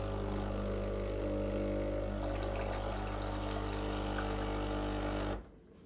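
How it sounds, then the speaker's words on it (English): A Breville Barista Express espresso machine pumps hot water from its tap with a steady, loud, close mechanical hum and watery rush, then stops abruptly near the end. "That gives you clean hot water straight from the boiler."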